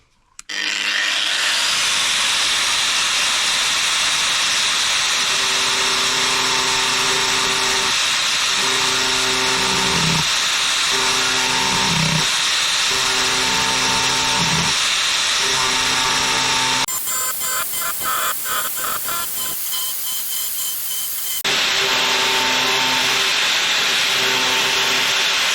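Angle grinder cutting a part on a Mini R50 race car build, a loud continuous high whine and hiss lasting the whole stretch, with pitch shifts as the disc bites and eases.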